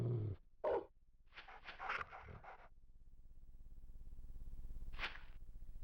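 A dog in the video game Shadow Man gives a few short whimpers and yelps close up, followed by a low droning ambience and one more whine near the end.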